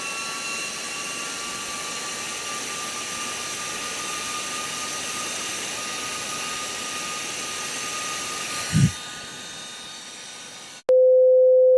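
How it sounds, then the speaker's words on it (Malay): A GOOJODOQ GFS011 portable clip-on mini fan whirs with a steady high-pitched motor hum and airy hiss, followed by a short thump and then a clean electronic tone. "ini adalah sound test masa kita guna kipas dia"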